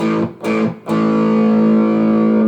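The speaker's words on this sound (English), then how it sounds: "you want a bit of distortion, you know, not metal or anything like that, but a nice crunch" An electric guitar with crunchy distortion: two short choppy strums, then a held chord ringing out loud and sustained.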